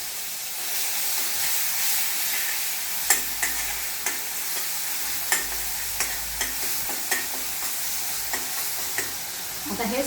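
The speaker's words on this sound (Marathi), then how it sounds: "आणि आता हे छानपैकी परतून घ्यायचं।" Ground tomato, chili, garlic and ginger paste sautéing in a pan gives a steady soft sizzle and hiss, punctuated by regular scraping taps of a stirring spoon, close up with no talking.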